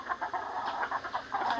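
Backyard chickens cluck in quick repeated bursts while being fed, a close flock of several birds chattering over a quiet yard with no voices.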